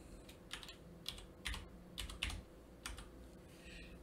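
Quick keystrokes on a computer keyboard as a web search term is entered, a rhythmic run of sharp taps in clustered bursts against a faint steady background hum, with no voices.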